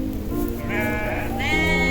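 Goats on a village goat farm bleat in drawn-out, wavering calls, two loud cries close by over a busy farmyard background with someone talking.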